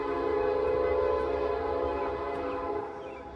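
A Norfolk Southern train sounds a sustained, loud multi-tone horn blast near a freshly rebuilt section of track at a road crossing, the chord holding steady for several seconds with low rumble beneath and easing slightly at the end.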